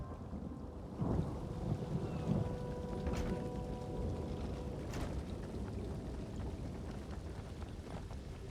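A thunderstorm in Elder Scrolls Online: steady rain hisses throughout while low thunder rumbles roll in, with a couple of sharper cracks standing out briefly above the constant downpour.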